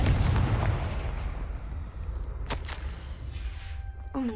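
A Confringo spell explodes in the video game Hogwarts Legacy, a booming blast that decays into rumble, then a few sharper cracks and a faint ringing tone near the end.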